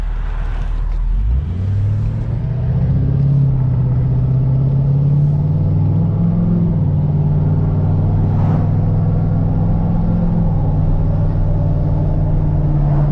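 A deleted and tuned 6.7 Powerstroke diesel truck accelerates from a low idle into a loud, sustained engine drone, its pitch rising and then holding steady as it gathers speed, heard from inside the cab.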